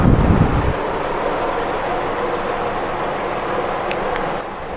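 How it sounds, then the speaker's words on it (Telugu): An electric fan running at full speed blows straight into a microphone, giving a loud, steady roar of wind noise that buffets heavily at first and then settles into a constant rush, with no voices. "సో ఫ్యాన్ అయితే ఫుల్ స్పీడ్లో ఉంది."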